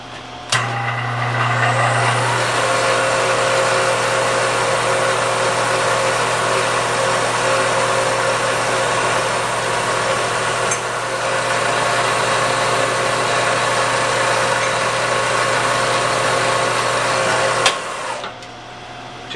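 A CNC milling machine cuts the perimeter of a handle, producing a steady, loud whine and hum that holds for about eighteen seconds before abruptly cutting off near the end.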